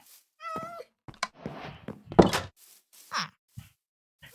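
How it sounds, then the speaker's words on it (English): Cats in the Minecraft video game meow several times in short, separate calls, with a few soft thuds and game noises between them, fairly close and clear. "Ooh, we got kitty cats."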